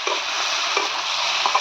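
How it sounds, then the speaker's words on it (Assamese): Pork meat frying and being stirred in a pan gives a steady, bright hiss of sizzling oil with a few soft scraping stirs, close and continuous. "এতিয়া মই আঞ্জাখনত যে মাংসটো ভাজি আছোঁ"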